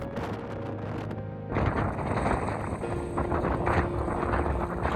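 Strong wind rushes over the microphone while cycling alone across the United States, a steady broadband roar that swells louder partway through and keeps gusting with no other sounds.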